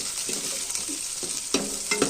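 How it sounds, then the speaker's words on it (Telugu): Curry leaves sizzling in hot tempering oil, a close bright crackling hiss with a few scraping stir strokes and a louder burst near the end. "పోపు దించి యాడ్ చేసా, కరివేపాకు వేసి."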